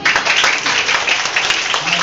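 Children clap together at a mission Christmas party, a loud, dense burst of clapping that stays even for the brief stretch, with a voice talking over it.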